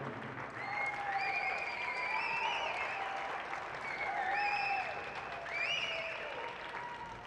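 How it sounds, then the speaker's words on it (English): An audience gives sustained, steady applause for the women sprint medalists at the UCI Masters Track Cycling World Championships. It swells gently in waves and is heard from some distance, with no talking over it. "How about a big round of applause for both of these women?"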